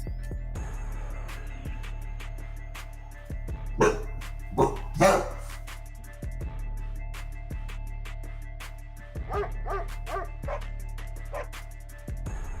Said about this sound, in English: The dogs are getting wild over there.